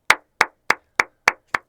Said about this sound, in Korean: 박수 5초 받으셔야 돼요.